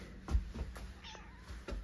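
A young cat meows softly outdoors in a snowy mountain setting, one short meow standing out among faint rustling and thumps.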